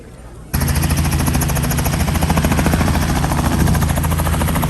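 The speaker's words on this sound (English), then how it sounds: "So the helicopters we're gonna be riding" A helicopter about to carry passengers on a ride roars in suddenly after a brief quiet moment, a loud, close, steady rotor thump with a dense engine whine that continues unbroken to the end.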